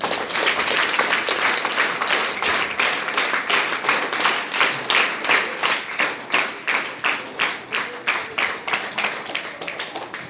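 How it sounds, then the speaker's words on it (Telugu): Audience at a kriya yoga session clapping in unison, loud steady rhythmic claps that grow more regular and evenly spaced as they go on. "చప్పట్లు కొట్టండి"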